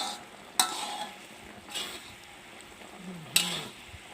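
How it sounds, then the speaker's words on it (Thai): Sauce for old-style Thai stir-fried rice noodles simmers and thickens in a pan while a utensil stirs and scrapes. There are a few sharp clinks against the pan over a soft bubbling bed, close and without talk. "เดี๋ยวเราจะเคี่ยวไปจนให้มันเหนียวนะคะ ให้มันเกิดความเหนียวขึ้นมาหน่อย"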